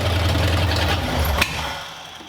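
The engine of a ruined 1932 roadster runs with a rough, loud, knocking idle, then cuts out with a sharp click about halfway, leaving quieter background noise.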